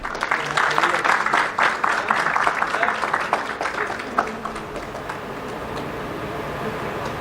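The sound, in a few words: audience applause at inauguration ceremony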